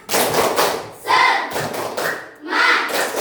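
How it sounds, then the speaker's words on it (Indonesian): A classroom of students performs a rhythmic spirit clap, with several loud bursts of clapping and thumping in quick sequence, close by and filling the room. "Oke, sebelum belajar kita tepuk semangat dulu."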